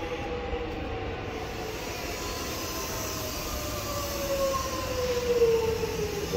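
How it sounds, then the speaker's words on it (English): A distant train in the Melbourne suburb of Boronia rumbles steadily with faint tonal squeals, growing slightly louder toward the end. "there's a train down there."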